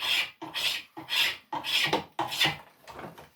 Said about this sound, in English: going over this area with my spokeshave to try to get these tapers smoothed up.